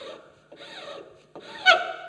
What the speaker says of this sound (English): So now I can take off those flats with the rasp.